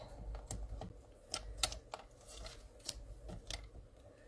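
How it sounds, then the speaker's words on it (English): Scissors snip paper while a handmade card is trimmed down, giving a series of short, crisp cuts at an uneven rhythm, close and fairly quiet, with no talking. "I think I'm just going to trim it down"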